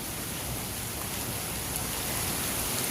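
Heavy rain pounding down in a steady, dense hiss that holds at an even level throughout, with no thunder or hail standing out.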